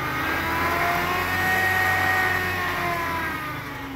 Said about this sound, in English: It's a good running tractor.